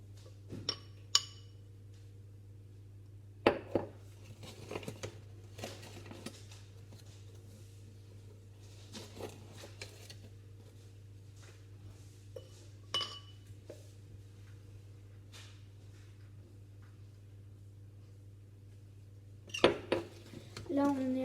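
A big spoon clinking against a bowl and scale while flour is scooped out for coconut langues de chat biscuits, scattered light taps and clinks over a steady hum, with a brief clatter near the end and talk in between.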